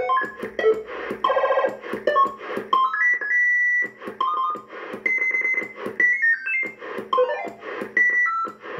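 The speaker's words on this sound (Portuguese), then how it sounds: "Nossa, tem bip, hein?" Electronic beeps and tonal bleeps sound repeatedly over a busy, dense background, sounding like an alarm tone being tried out.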